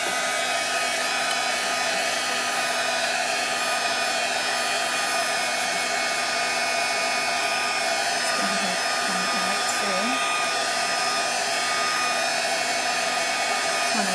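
A handheld heat tool blows steadily up close, heat-setting stamped ink on a card for embossing, a constant loud whirring hum that runs unbroken from start to finish.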